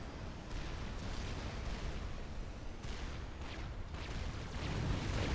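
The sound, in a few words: explosions of redundant T1 factories detonated, Supreme Commander: Forged Alliance Forever video game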